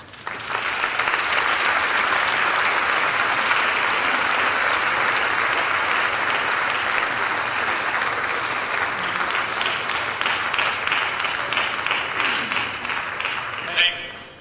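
Sustained applause from a large crowd at a congressional gala, steady and full for several seconds before it tapers off at the end.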